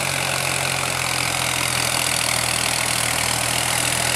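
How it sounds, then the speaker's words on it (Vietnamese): A three-cylinder tractor or tiller engine runs at a steady, fast idle. The close, continuous mechanical drone is loud and even, with no breaks or revving. "Máy này thì nó chạy tốc độ lẹ vậy mà nó sới là không có ra miếng khói các bạn"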